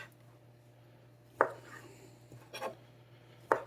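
Knife slicing browned smoked sausages into chunks on a cutting board, giving three sharp, distinct chops spaced about a second apart over a faint low hum.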